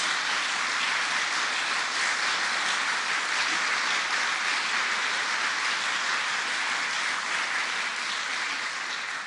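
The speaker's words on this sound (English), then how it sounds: "Give New Yorkers a round of applause" An audience gives New Yorkers a round of applause during a speech by the governor on lifting COVID-19 mandates, dense continuous clapping sustained at an even level throughout.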